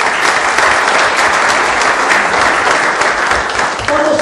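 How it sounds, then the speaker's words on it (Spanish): A large crowd at a PRI political party assembly applauds loudly and steadily, the clapping dense and sustained throughout before easing slightly at the end. "a todos ustedes un aplauso"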